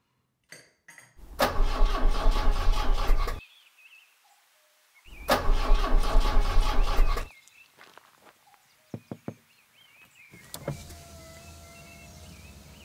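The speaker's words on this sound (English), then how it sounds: "Having a spot of engine trouble, I see." A car engine in the video game The Marrowing cranks twice in long, loud bursts without catching, separated by quiet gaps, followed by a few clicks and a faint, brief third attempt.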